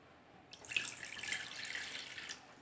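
Water streams into a glass for a homemade ginger indigestion drink, a steady splashing pour that starts after a brief quiet moment and runs for about two seconds, close and alone.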